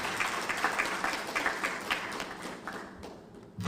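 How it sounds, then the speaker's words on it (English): Another round of applause at a Regional Centre on Small Arms conference with member-state delegates, clapping that starts fairly strong and thins out before a brief thump at the end. "Another round of applause."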